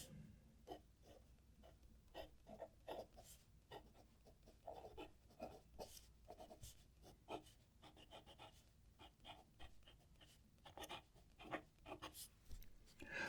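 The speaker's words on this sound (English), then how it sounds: "But with that and a notepad, you're set for whatever you want to do. So let's write." A fountain pen filled with Diamine Grotto ink writing on a notepad makes quiet, close scratching strokes in short irregular bursts, with no voices.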